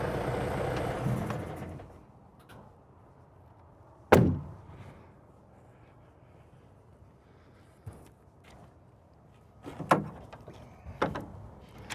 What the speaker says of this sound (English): I'm going to pop open the hood.